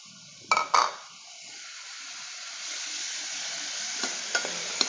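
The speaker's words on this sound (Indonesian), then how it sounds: "Nih ya, dagingnya ditumis." Beef rib meat sautéing in a pan: a steady sizzle that swells slowly, with two sharp clinks of a utensil near the start and a few light scrapes and taps later.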